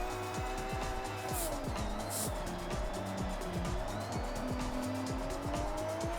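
Car drifting around a small, tight drift track in the racing game Forza Horizon 6, the engine revving up and down in repeated gear shifts with tire squeal, loud and continuous.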